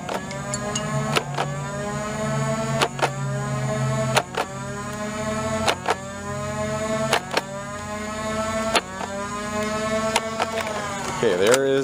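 Flywheels in a Nerf AccuStrike blaster spin up into a steady electric motor whine that holds for several seconds, with sharp clicks repeating every second or two, loud and close.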